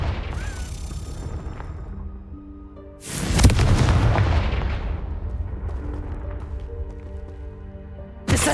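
A Confringo blasting spell detonates in Hogwarts Legacy: a sharp, loud explosive burst with a rumbling decay, set against a continuous game backdrop of music and ambience.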